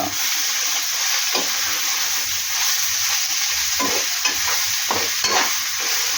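Dried fish curry with tender tamarind leaves fries in a pan, a steady close sizzle broken by repeated scraping strokes of a spoon stirring the mixture.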